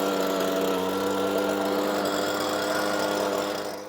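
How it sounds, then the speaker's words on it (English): Leaf blower clearing a week's collected debris outdoors, a loud steady motor roar with a constant whine that eases slightly at the end. "So I'm going to use the blower to clean it up some."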